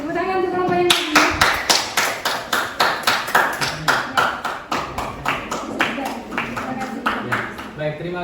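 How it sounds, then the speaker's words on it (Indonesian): Applause from a classroom of students for the second group after a hydrostatics presentation, a long run of loud, rapid hand claps lasting several seconds, with bursts of voices mixed in. "tepuk tangan untuk kelompok yang kedua"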